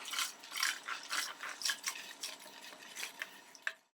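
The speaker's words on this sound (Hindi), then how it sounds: "और ये जो दाल है ये इसमें डाल देंगे।" Dry lentils for dal tip into a pot of water, making a quiet run of rattling, splashing pours with uneven bursts and a sharper clack near the end, all close by with no voices.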